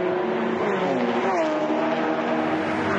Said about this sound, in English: Love hearing the mixture of machines in GT racing.